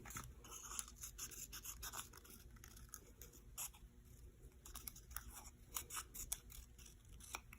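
Scissors snip through paper to cut out a circle, making quiet, continuous close-up crisp snips and rustles for several seconds with no talking.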